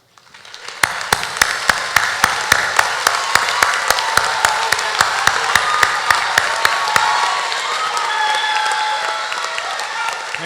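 A large crowd at a fall college commencement ceremony for natural sciences and mathematics applauds graduating honors students, with loud, sharp individual claps standing out over a sustained, full wash of clapping that rises quickly and holds steady.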